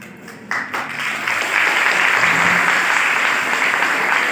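A seated audience at a memorial tribute event breaks into applause that starts with a few scattered claps and quickly swells into steady, loud, continuous clapping from many people.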